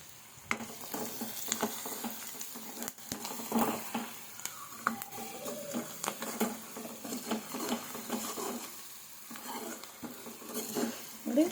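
Salted sheep blood fries in a pan with a quiet, continuous sizzle, punctuated by frequent scraping and clattering stirs against the cookware.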